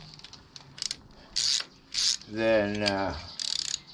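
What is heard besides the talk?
ratchet strap being tightened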